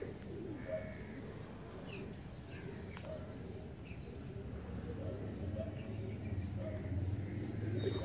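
Teddy pigeon, a breeder male, cooing softly amid a busy loft full of murmuring birds, with someone talking over the steady flock noise.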